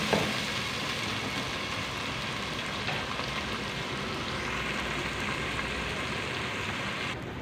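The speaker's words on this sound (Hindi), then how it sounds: "तो जी यहाँ पे लहसुन अदरक की भी अच्छे से भुनाई हो चुकी है" Garlic and ginger paste frying in a pan, a steady, even sizzle that holds throughout with no voices.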